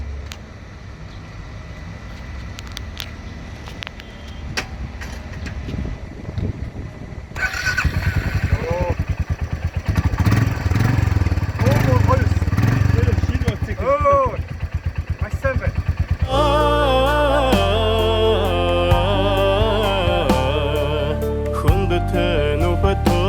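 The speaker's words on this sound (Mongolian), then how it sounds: "Хороший мотоцикл" A motorcycle engine runs steadily at close range, rumbling and shifting in pitch as it revs, with people talking over it.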